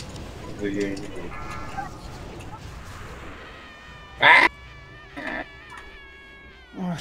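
A cat monster in a video game boss fight yowls in loud, piercing bursts over game sounds, with players chatting underneath.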